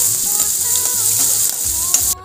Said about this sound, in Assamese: এতিয়া মই পিঁয়াজখিনি অলপ ৰঙচুৱা পৰালৈকে ফ্ৰাই কৰি ল'ম।